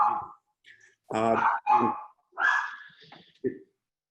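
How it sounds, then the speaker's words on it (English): A dog barks in the background during a lecture on Japanese legal culture, giving a few short, separated barks at moderate loudness with no talk over them. "I can hear a dog barking"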